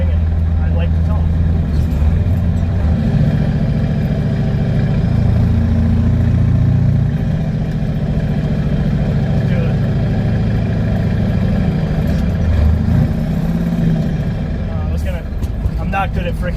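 A medium-duty truck with a CAT 3208T diesel drives along, its engine a loud, constant low drone that swells slightly in the middle, with someone talking over it throughout.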